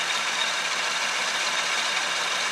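A 1966 Chevy C10 engine idles steadily around 800 RPM, a close, even broadband hum with a faint low rumble running unchanged throughout, no voices.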